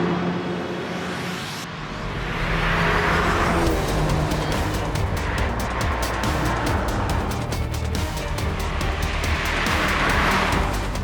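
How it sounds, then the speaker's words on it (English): A 2016 Volkswagen Golf GTI Mark VII drives past and keeps going, with engine noise and a steady road roar from near and loud, holding strong through the clip after a quieter start. "the Mark VII Golf GTI"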